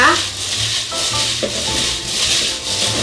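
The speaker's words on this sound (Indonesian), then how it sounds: "Kita aduk rata." Seasoned chicken being stirred by hand with ground white pepper, a steady close wet rubbing and squishing that runs continuously, with faint background hum and brief talk.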